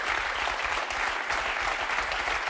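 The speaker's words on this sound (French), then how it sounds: "Je crois qu'on peut vraiment les applaudir." Steady studio audience applause on a French talk show, a continuous wash of clapping hands at moderate volume throughout, with no voices over it.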